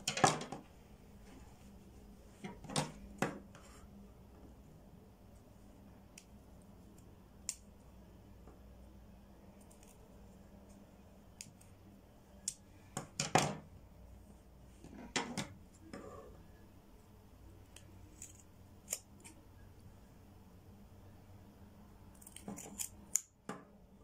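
Scissors snip through macrame cord in a few sharp, separate cuts, with quiet handling noises between them in an otherwise hushed room.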